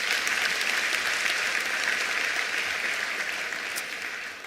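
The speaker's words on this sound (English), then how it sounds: "I'd like us to give a hand of applause to our educators." Audience applause for educators at a ministerial announcement of national exam results, a dense, steady wash of clapping from a large crowd that fades slightly toward the end.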